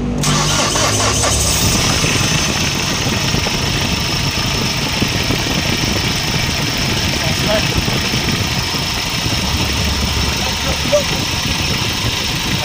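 Engine cranked and started, then settling into a steady mid-pitched idle close by, with people talking over it in the background.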